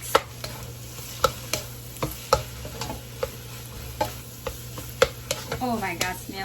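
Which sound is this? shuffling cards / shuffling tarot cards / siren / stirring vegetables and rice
stirring vegetables and rice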